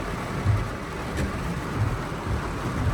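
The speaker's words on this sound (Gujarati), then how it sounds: "જોરદાર વરસાદ ચાલુ થઈ ગયો છે અત્યારે" Heavy rain pours during a storm in Surat, a dense steady roar with low rumbling swells, heard from inside a parked car on an empty road.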